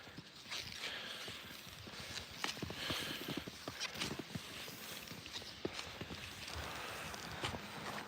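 Horses walk along steadily, their hooves clip-clopping in an irregular rhythm at moderate distance, set against constant outdoor background noise with no talking.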